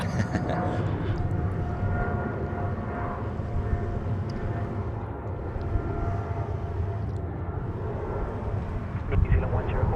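Air New Zealand flight 104 departing Sydney Airport, a steady jet engine roar at moderate distance running throughout, overlaid by talking voices.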